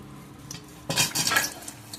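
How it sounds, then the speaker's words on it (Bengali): Potatoes going into hot mustard oil in a wok, starting with a quiet sizzle before a sudden loud burst of crackling spatter about halfway through, mixed with utensil clatter. "তেল ভালোভাবে গরম হয়ে গেছে এবং আলুটা ভেজে নেব"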